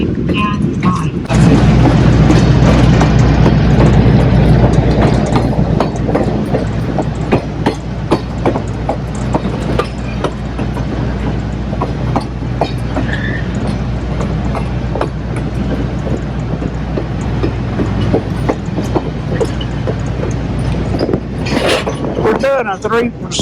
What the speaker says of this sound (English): we're being pushed by this diesel locomotive